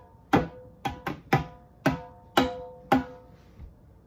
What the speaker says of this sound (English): we are going to play on a drum.